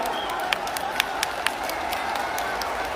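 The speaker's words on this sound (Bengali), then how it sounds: "জোরে একটু হাততালি হয়ে যাক" Applause from a crowd at a political rally in West Bengal as a guest is welcomed with a shawl; steady, moderately loud clapping lasts throughout, with a few sharper claps standing out.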